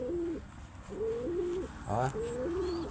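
Repeated low coos from pigeons, soft and rhythmic, close by, with a short burst of a harsher call partway through.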